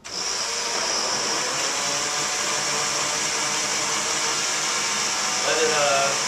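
A kitchen blender runs steadily on its shred setting, a loud continuous motor whine with a high-pitched edge that holds unchanged for about six seconds.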